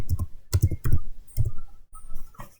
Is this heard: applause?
no